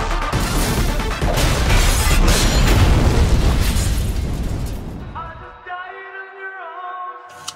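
A loud bomb blast roars with rumbling debris for several seconds before cutting abruptly to a quieter tonal musical sting from a TV promo.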